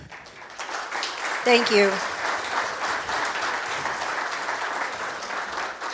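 Audience applause fills a cybersecurity conference room in Detroit, a steady wash of clapping from a crowd that swells briefly near the middle, with a short spoken thank-you over it.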